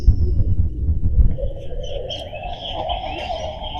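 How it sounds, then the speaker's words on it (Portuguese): Birds call overhead near Lagoa da Pampulha in Belo Horizonte, a chorus of chirping and whistled notes rising over low rumbling background noise, moderately loud and continuous. "Os pássaros aqui em cima."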